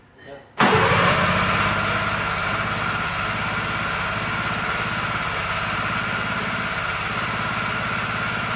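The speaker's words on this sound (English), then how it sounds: "I'm just running the starter until I feel comfortable." An electric starter cranks an engine that has a bad magneto, producing a loud, close, continuous mechanical whirring drone that begins abruptly and holds steady for several seconds without catching.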